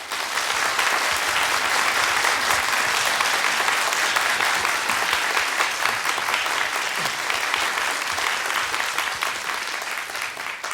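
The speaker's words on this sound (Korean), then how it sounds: "준비하셨다가 뜨거운 박수로 맞아주시면 고맙겠습니다." A seated audience at a Korean economic forecast lecture claps warmly to welcome a speaker, dense continuous applause filling the room at full strength for several seconds before tapering slightly at the end.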